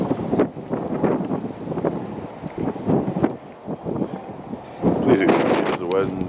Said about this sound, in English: Please excuse the wind.